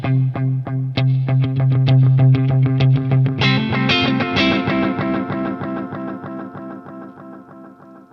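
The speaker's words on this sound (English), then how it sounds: "And you can hear in its delays, it's almost like a tape echo." A vintage Maxon AD-80 analog delay pedal, 18-volt version, set to its longest repeat, sends a picked guitar phrase into warm, tape-like echoes that stack up and slowly fade out over several seconds.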